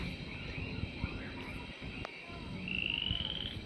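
Frogs croaking outdoors in Australia's wild north, a faint scattered chorus of short croaks over a low background hum, with a brief higher trill near the end and a voice faintly underneath.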